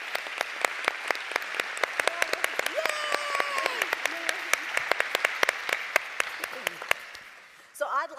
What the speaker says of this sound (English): Let's give our Open Spaces team a big round of applause for the work they do.